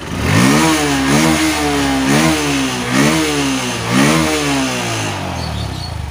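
A Honda Verza motorcycle engine revs repeatedly, rising and falling in roughly one-second pulses, loud and close.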